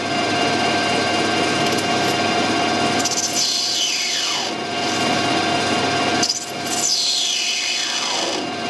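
A brass slip being machined to shorten it by a couple of threads, with continuous loud grinding and cutting noise and two sweeping tool passes, no talking.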